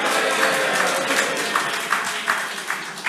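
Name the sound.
audience cheering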